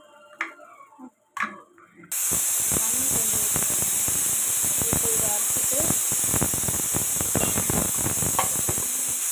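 A loud, steady electric grinding whir from a mixer grinder grinding chutney starts abruptly after a short quiet stretch and runs continuously to the end, with faint clatter inside.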